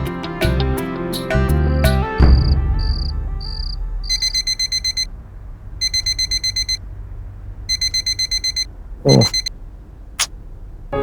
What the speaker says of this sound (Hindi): क्या सुबह सुबह अलार्म लगा दिया?